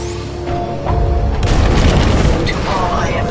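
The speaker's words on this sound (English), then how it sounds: "Detonate charges 21 through 29." Detonated charges go off in Titanfall 2 single-player combat, a heavy booming blast swelling into a sustained roar with crackling debris over a steady low rumble, while a voice speaks over the start.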